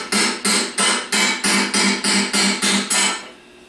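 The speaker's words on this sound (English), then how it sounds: "hit the top of the extension with a hammer" A hammer strikes the top of a 1/4 inch by 6 inch extension to drive a bushing onto a 5MT starter, ten sharp, loud metallic blows in an even, quick rhythm, then quiet.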